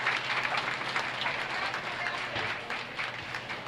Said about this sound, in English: So let's give all three exhibitors a round of applause.